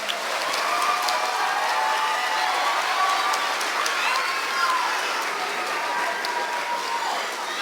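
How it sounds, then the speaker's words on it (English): An audience at an elementary school spring concert applauds the kindergarten singers in a sustained, even wash of clapping, with faint voices and children's chatter mixed underneath. "Let's give the kindergarten one final round of applause."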